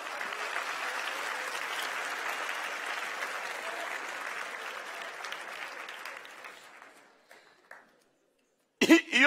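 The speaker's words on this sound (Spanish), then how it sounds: "Mejor dale un aplauso al rey bendito." A church congregation applauds the king during a Sunday service, with dense, sustained clapping that thins out and fades after about seven seconds, followed by a short pause and a few sharp noises at the end.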